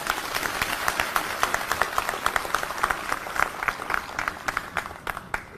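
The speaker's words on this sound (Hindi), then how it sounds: "जोरदार तालियां हमारी ऑडियंस के लिए" An audience at a public stage gathering gives a burst of loud, dense clapping, many hands together, sustained and steady throughout with slight swells and no pauses.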